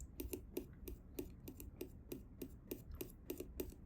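A dozen or so sharp scratching strokes of ordinary scissors against a steel watch case, a Vesuviate Volare GMT, evenly spaced and fairly quiet, with no talking.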